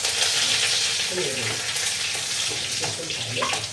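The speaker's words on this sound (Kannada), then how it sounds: "ಸಾಸಿವೆ ಪಟ ಆದ್ಮೇಲೆ ಈಗ ನಾನು ಬೆಳ್ಳುಳ್ಳಿ ಹಾಕ್ತಾ ಇದ್ದೇನೆ, ಮತ್ತೆ ಬೇವಿನ ಸೊಪ್ಪು." Garlic and curry leaves sizzle in hot oil after mustard seeds have popped, a steady loud crackling fry with scattered spits and bursts throughout.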